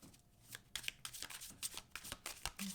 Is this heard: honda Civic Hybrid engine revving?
no